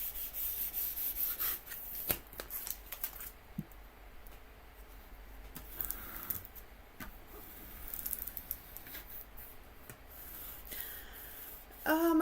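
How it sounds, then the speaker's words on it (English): A large scraper rubs and scrapes across a Cricut wood-burning stencil, pressed down from the back, making a steady close-up scratchy friction with short sharper strokes and no talk. "So we're going to scrape that down nicely, and I'm just going from the back."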